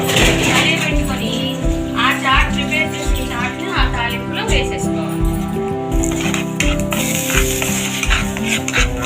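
Spices tempering in hot oil for a homemade chaat, a steady loud sizzle and crackle with stirring and clinks of a utensil, running under continuous talking.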